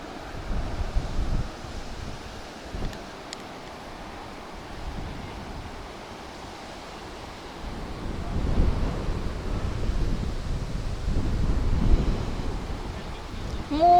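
Steady wind rushes against the microphone while waves wash in the distance, swelling louder toward the end.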